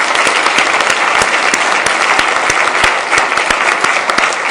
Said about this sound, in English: So just a small round of applause for those people